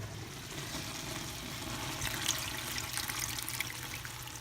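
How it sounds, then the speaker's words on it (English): Leftover seasoned chicken cooking water is poured into a pot during stew making, a soft steady trickle and splash running for several seconds at low volume. "So now I'm going to take this water and throw it in here."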